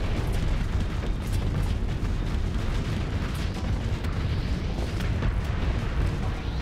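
Continuous roaring blasts and rumbling detonations from a starship battle in the space game Starsector, a dense, loud wall of explosions with no pause throughout.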